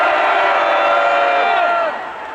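A large outdoor crowd at a political rally in Gwanghwamun, Seoul, roars and cheers in one sustained loud burst for a former vice defense minister, then tapers off near the end.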